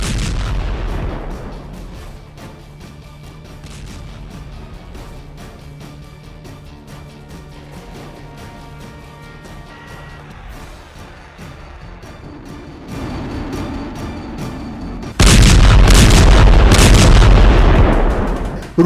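Artillery fire in attacks on Ukraine: a steady low rumble with scattered dull thuds, building to a much louder, harsh blast near the end that fills the sound and cuts off abruptly.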